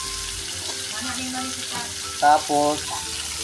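Pan sauté of chopsuey ingredients with a steady sizzle and stirring clatter, under a brief voice and clinking utensils in a home kitchen.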